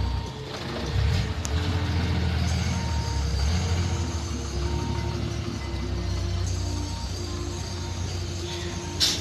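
A Fuso truck parks in a lot with its engine rumbling at a moderate distance, a faint steady reversing tone, and short hisses of air brakes near the start and end.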